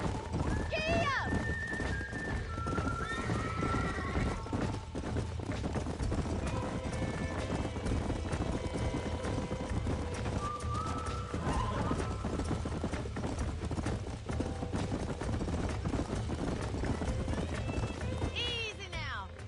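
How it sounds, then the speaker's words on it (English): Horses in the Red Dead Redemption video game trot and gallop with steady clip-clop hoofbeats, and a neigh sounds near the start. People talk over the hooves, alongside game music and ambience. "These are fine horses."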